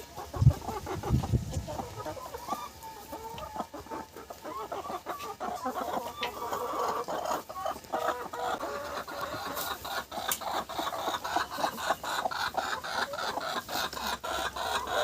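Hens cluck in a backyard coop where brooding birds sit on the eggs laid by the others, their calls steady and close amid a busy, scratchy background that lasts the whole stretch.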